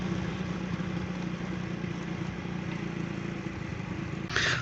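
A motorcycle engine idles steadily and close by in a rural farm setting, a continuous low rumble that holds evenly throughout, with a brief brighter burst of noise near the end.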